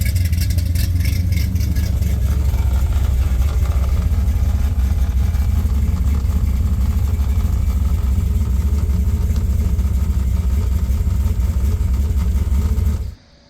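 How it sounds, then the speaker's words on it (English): A Chevy II Nova's engine idles steadily and loudly at close range for about thirteen seconds, a constant low rumble that cuts off abruptly at the end. "I did a 2-minute idle test on the Nova."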